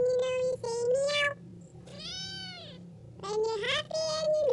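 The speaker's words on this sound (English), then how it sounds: "When you're happy and you know you say meow." A cat meows loudly right at the microphone: three long, drawn-out meows with a pause between the first and second, the middle one rising and falling in pitch, over a faint low background hum.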